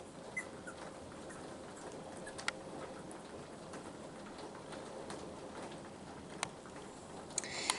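Three-week-old puppies whimper and squeak softly in short, scattered cries over a low background hum, with faint cooing mixed in.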